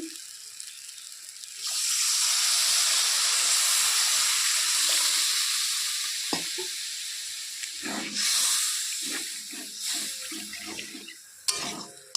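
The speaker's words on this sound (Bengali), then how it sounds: "এখন আমি দিয়ে দিব ঝোল" Gravy poured into a hot pan of oil and fried spices while cooking steamed puti fish, a loud broad sizzling hiss that swells, holds for several seconds, fades, then flares again with scraping bursts near the end.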